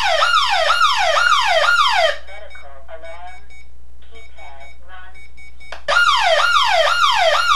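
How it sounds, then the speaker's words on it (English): Medical alarm on a home security keypad sounding loud repeated descending warble tones, cutting off for a few seconds of quieter faint sounds, then resuming just as loud. "Medical alarm keypad run."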